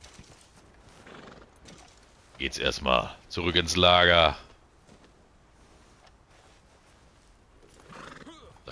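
A horse in Red Dead Redemption 2 Online gives one loud whinny with hoof clip-clop in a short burst midway, while someone talks quietly before and after.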